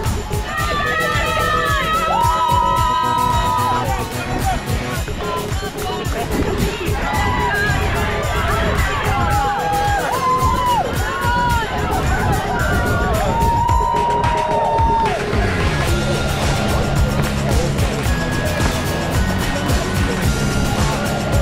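A large crowd cheers, whoops and shouts as runners cross the finish line of a university championship race, loud and continuous, with children's shouts and an announcer's voice mixed into the din.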